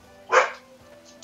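A dog in the medieval survival video game Life is Feudal gives a single short bark, followed moments later by the start of a second yelp, over a quiet background hum.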